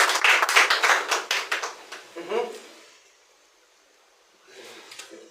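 A church congregation clapping in rhythm during a service, a run of sharp, fairly close claps that fades into quiet, with voices heard alongside.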